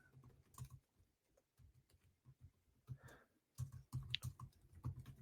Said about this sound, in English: Sounds of Alex typing.